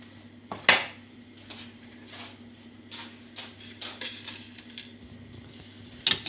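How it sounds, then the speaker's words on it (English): Coriander, cumin and fennel seeds dry roasting in a frying pan, with faint scattered crackles and scraping stirs, plus a few sharp clinks of utensil against pan over a quiet kitchen hum. "in another frying pan I'm putting all this coriander, cumin seed, fennel seeds."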